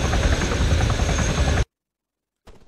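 A military helicopter in the video game ArmA 3 thunders with a loud, steady rotor and engine roar for about a second and a half, then cuts to silence before a faint return.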